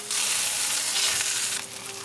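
Breaded pork loin chops seasoned with tandoori masala frying in a pan right after being turned, giving a steady close, bright sizzle with no talking.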